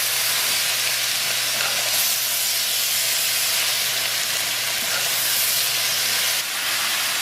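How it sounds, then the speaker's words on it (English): Kale wilting and cooking down in a hot pan as fresh leaves are added and stirred, giving a steady, close hiss and sizzle of steam that runs unbroken throughout with no talking. "all I've been doing is just adding the rest of kale and mixing it"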